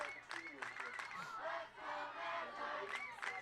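Home crowd at a high school state tournament softball game yells and cheers to rally its trailing team in the bottom of the seventh inning, a steady, lively roar of many voices with shouts rising throughout.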